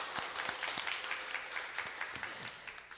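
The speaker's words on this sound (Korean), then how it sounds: "박수하겠습니다" A church congregation claps in thanks during a Sunday service, a moderate, somewhat distant patter of applause with a few sharper individual claps standing out.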